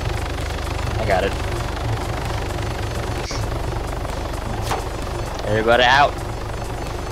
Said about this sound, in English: how do I turn off the helicopter?